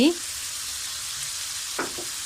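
Pork stir-fried in a pan after pounded pepper and coriander root, giving a brief clatter of stirring and then a steady low sizzle, with a short scrape near the end.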